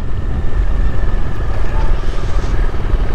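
A Ford Raptor 4WD passes close by with a loud, steady engine roar and road rumble that hold level through the whole stretch, with no speech over it.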